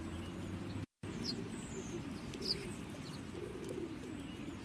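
A pigeon coos softly over a low, steady background murmur, with a few faint chirps and a brief dropout.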